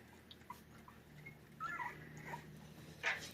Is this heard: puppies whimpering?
yes